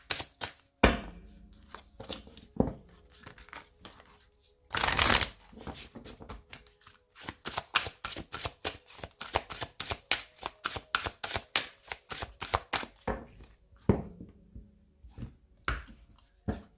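Two Oracle Belline decks, the classic and the Gabriel Sanchez editions, are shuffled close up in quick, rhythmic card flicks and riffles, with one longer dense burst early on and no talking.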